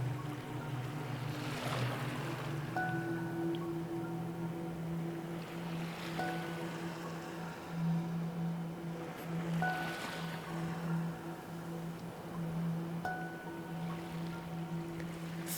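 Ocean waves break and wash in at a slow, regular rhythm, with each surge swelling and fading under a steady low hum and wind.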